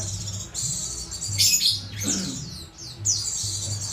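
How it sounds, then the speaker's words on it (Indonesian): Pleci white-eye birds chirp nearby in quick high twittering bursts, with a few sharper calls standing out, over a low background hum. "Oke, jadi di depan kita sudah ada burung-burung bahan ini ya, Mas."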